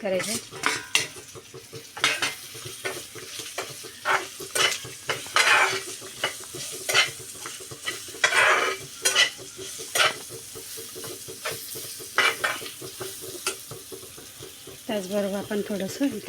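Green chilies fry in a pan as a spoon scrapes and stirs them, with bright metallic clinks and scraping strokes over a soft sizzle, fairly close and uneven in rhythm, no voices.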